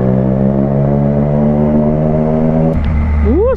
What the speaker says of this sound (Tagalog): Sarap talaga ng tunog ng Trident